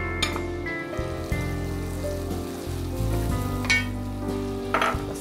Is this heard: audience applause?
no